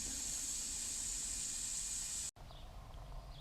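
Steam hisses loudly and steadily from an opened high-pressure dewaxing boiler used in lost-wax bronze casting, then cuts off abruptly, leaving a quieter background hiss.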